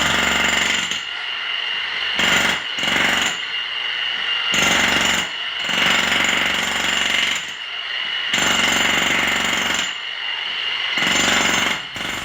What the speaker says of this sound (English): we're using the chipping hammer here to knock up our relief cuts